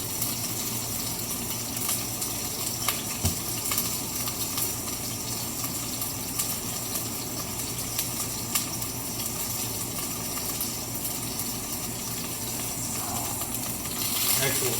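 A rare steak sizzles in a hot pan, a continuous broadband hiss and crackle holding steady at moderate loudness for the whole stretch, with no clear voices.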